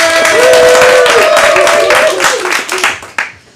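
An audience at a comedic acting class showcase claps and whoops loudly to welcome a stand-up performer, a thick burst of applause with a shouted voice on top that thins out toward the end.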